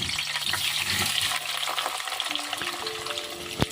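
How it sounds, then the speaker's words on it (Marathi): Potatoes dropped into hot oil sizzle and fry steadily, a dense crackling hiss up close with occasional stirring clinks and a faint background hum. "तेल गरम झालं की आता आपण जी बटाट्याला होल करून ठेवले होते तेलात सोडून घेऊ"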